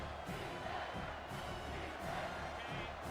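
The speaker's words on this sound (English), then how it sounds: "Third down, and this crowd will blow out a vocal cord to help this defense." A stadium crowd in an American football video game roars steadily on third down, a dense, continuous wash of cheering with no break.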